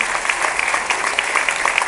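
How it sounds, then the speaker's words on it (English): An audience at an evening stage competition claps for its performers, a continuous, full wash of close applause with scattered sharper hand claps throughout. "let's give all our performers tonight a huge round of applause for coming up on stage"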